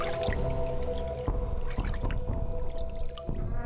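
Water splashing in Silent Hill: Shattered Memories, a busy stretch of sloshing, dripping and squishy liquid sounds over a low droning game background.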